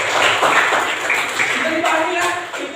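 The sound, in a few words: students clapping applause in class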